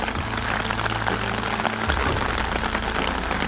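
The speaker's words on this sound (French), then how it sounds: "J'ai été réveillé par la pluie." Dense, steady rain patters hard on a taut tarp overhead at a bivouac around 4 a.m., a constant close hiss with a low hum fading out partway through.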